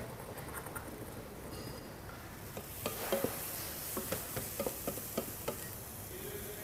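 Vegetables sauteing in a pan for lentil soup, a soft continuous sizzle with a run of light stirring taps and scrapes in the latter half, close and fairly quiet.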